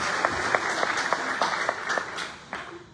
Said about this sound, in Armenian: առաջին ամենամեծ ծափահարությունը պիտի մեր ապագային լինի եւ մեր մանուկները թող ստանան այս ծափահարությունը